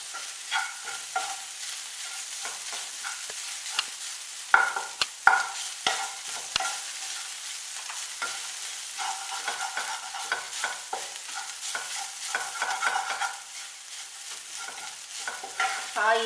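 Chicken cutlet mixture with pepper and chili powder is stirred in a hot pan. Close scraping and shuffling strokes ride over a light sizzle, with a few sharp knocks of the spoon against the pan midway and no voices.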